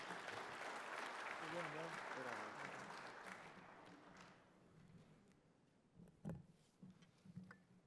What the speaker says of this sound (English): Please, a round of applause for Colin Daniels.